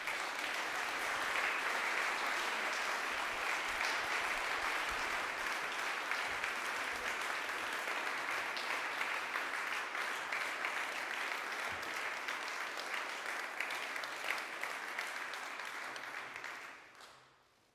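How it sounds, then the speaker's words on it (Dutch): A large audience at a Dutch CDA party gathering applauds in a dense, steady wash of clapping that holds for about sixteen seconds and then fades out at the end. "Geef ze een applaus en dan kunnen ze gaan zitten."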